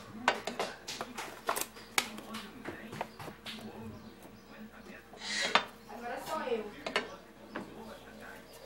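Ground beef hitting a hot pan that was heating with oil, giving clattery pan and utensil clinks and a soft sizzle in a home kitchen, with scattered sharp knocks throughout.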